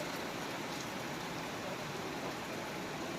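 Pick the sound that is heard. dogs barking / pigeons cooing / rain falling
rain falling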